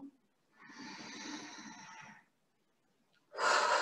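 Two strong, long exhalations from people doing a seated Tao breathing exercise, each a loud, breathy whoosh lasting over a second, close and clear in an otherwise quiet room.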